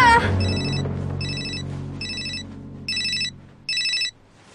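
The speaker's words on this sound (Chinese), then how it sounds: "快点接电话啊！" A telephone rings in short electronic bursts, five evenly spaced trills after a brief thump at the start, clear and fairly loud indoors.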